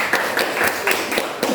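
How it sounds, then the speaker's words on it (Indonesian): Classroom students clapping at a senior high school in Busungbiu, Bali, a short burst of several hands striking in loose, uneven rhythm at close range. "Tepuk tangan dulu untuk kita semua."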